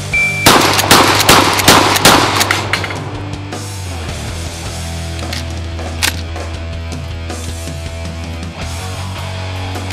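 A Mossberg 590A1 pump-action shotgun fires rapidly outdoors: a fast string of loud, sharp blasts in the first few seconds, each followed by ringing echoes that trail off into a quieter tail.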